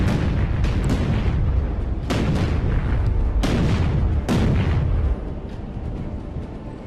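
Naval 5- and 6-inch guns fire in a Battlestations: Pacific sea battle, a dense run of loud booming blasts with several sharp reports overlapping under a continuous rumbling roar, with no talk.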